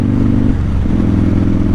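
A Harley-Davidson Dyna motorcycle engine runs up close with a loud, lumpy low rumble that dips briefly mid-way before the pitch rises again as the throttle opens.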